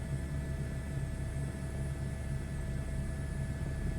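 A helicopter hovering in Microsoft Flight Simulator 2024, a steady rotor and turbine drone with a fixed high whine, even and continuous with no voices.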